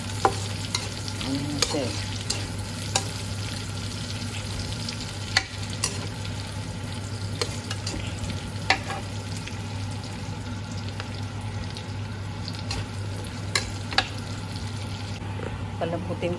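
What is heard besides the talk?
onion sautéing in a pan for pansit guisado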